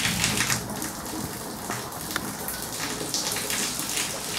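Heavy rain during a thunderstorm in Chefchaouen, Morocco, pours down as a dense, steady hiss of drops splashing on surfaces, close and continuous with no thunder or voices.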